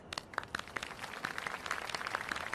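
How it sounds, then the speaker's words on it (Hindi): Soft, distant applause for the players of a game, with scattered individual claps and a thin, uneven patter from a small group that gradually thickens over a couple of seconds. "हमारे इस खेल के प्लेयर्स के लिए एक बार फिर तालियां।"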